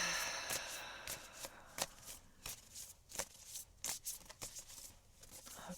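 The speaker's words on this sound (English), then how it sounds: "just give these cards a little shuffle here" An oracle card deck is shuffled close by in soft, rapid riffles and taps, repeated in short bursts that fade and return across the clip.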